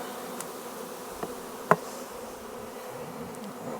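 Honey bee swarm buzzing in a steady, dense drone outdoors, with a few louder individual bees passing close by and one sharp near buzz partway through.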